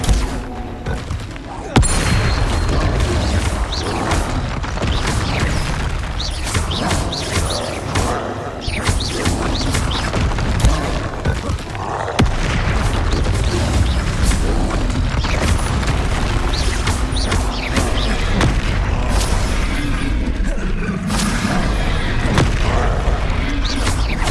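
Spell blasts in the video game Hogwarts Legacy, with a dense run of booming explosions, crackling impacts and clashing combat effects over a continuous loud battle, and a voice casting spells throughout.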